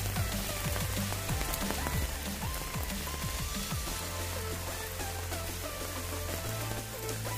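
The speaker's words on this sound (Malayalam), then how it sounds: "മഴ ചാറി കേൾക്കുന്നുണ്ട്." Light rain drizzles outdoors over a temple ground, making a steady, dense hiss of fine patter throughout, with a low hum running beneath it.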